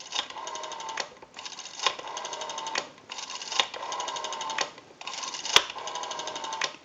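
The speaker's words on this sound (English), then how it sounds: "We have a nice smooth return on our rotary dial now." A rotary dial on a Spacesaver telephone is turned and spins back five times in a row, each a clicking whir about a second long with short pauses between, close and clear with no talk.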